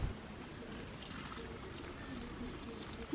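Water is poured onto a struggling potted plant, a soft, steady trickle and splash that runs for a few seconds at low volume with no talking.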